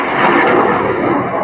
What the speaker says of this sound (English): hear an airplane. Oh, he's coming closer.